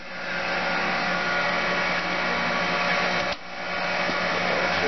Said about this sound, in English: Got a coolant pump. That all works.